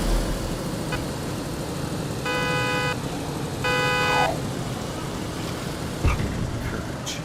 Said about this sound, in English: You just hear horns honking.